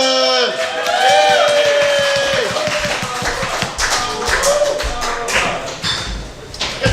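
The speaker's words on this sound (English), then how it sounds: "Give a round of applause for Nora Rockland!" Comedy club audience clapping and cheering as a comedian is welcomed to the stage, lively applause with whoops and scattered thumps, while a voice speaks over it.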